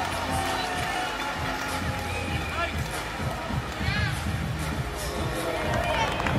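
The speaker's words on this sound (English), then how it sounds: "The crowd understandably loving this one" Boxing arena crowd cheering and roaring after round 7 of Serhii Bohachuk vs Vergil Ortiz Jr, a dense, sustained wash of voices and whistles with a commentator talking over it throughout.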